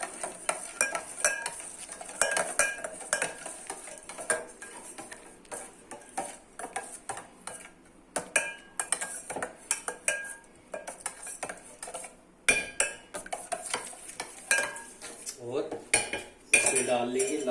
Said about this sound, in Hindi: इस तरह से अब इस मैरिनेशन को मिक्स करेंगे।